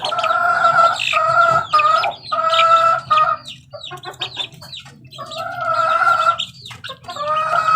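Chickens and chicks cluck loudly and repeatedly close by, in bursts of rhythmic calls broken by short pauses and higher chirps, with no talk.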